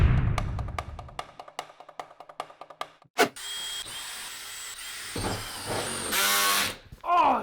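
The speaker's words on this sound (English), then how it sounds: "You're going to take a drill and drill the 4 corners." An electric drill whirs into a van's panel in a few bursts, drilling corner holes to mount an air conditioner, after a string of sharp clicks and a thud, close and loud, with a brief high whine at the end.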